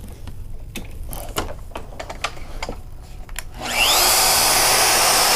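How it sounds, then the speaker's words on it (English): Mechanical clicks and taps lead into a shop vacuum hooked to a Festool router roaring on, a loud, steady, close whoosh that lasts to the end. "Helps if we turn the vacuum on."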